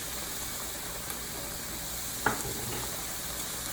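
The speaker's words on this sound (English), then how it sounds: "And then we'll stir it up and let it cook." Food sizzling steadily in a frying pan as it is stirred, a faint, even hiss with a soft scrape or clink of the utensil now and then, without any talking.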